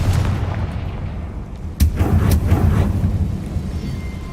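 A Confringo spell explosion in Hogwarts Legacy, one sharp boom over a steady rumbling game background, followed by a few softer crackling after-blasts.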